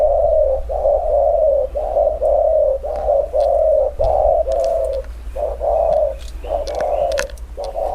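A spotted dove in moult coos repeatedly in a steady rhythm of low, hollow phrases, close and clear, with faint chirps in the background.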